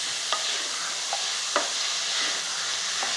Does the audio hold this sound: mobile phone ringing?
no